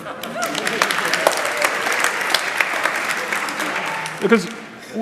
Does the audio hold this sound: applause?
yes